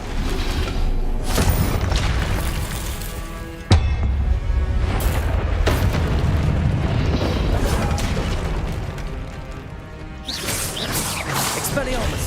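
A Confringo spell explosion in Hogwarts Legacy: a booming blast with a sharp onset, heard amid dense, loud spell effects and game noise.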